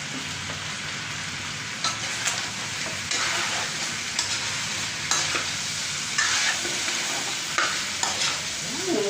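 Soy sauce hits food frying in a pan and is stirred: steady close sizzling with scraping and tapping of the utensil at irregular intervals, no talk.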